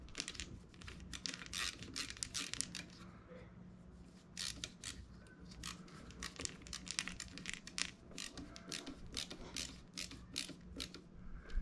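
A ratchet taking a screw off the charging wiring on a 1st Gen Cummins, a close run of rapid clicking bursts repeated over several seconds, with no voices.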